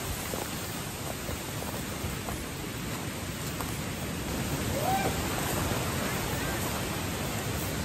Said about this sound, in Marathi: पाऊस पण सुरू झालाय ले.